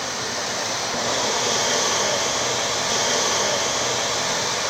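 An ocean drum imitating rolling ocean waves gives a steady, dense rushing hiss that swells slightly in the middle and holds near and loud throughout, with no talking.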